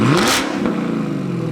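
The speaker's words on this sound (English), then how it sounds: "This is what a rev sounds like on my car tuned with stock timing." A ProCharger-supercharged car engine tuned with stock timing revs sharply upward once, then settles back to a rough, lumpy idle, loud and close.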